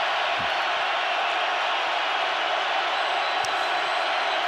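A stadium crowd roars and yells steadily throughout at a Seahawks vs Panthers NFL game, a dense, continuous wall of noise with a brief sharper burst near the end.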